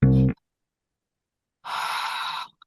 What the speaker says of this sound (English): Slow, slow breathing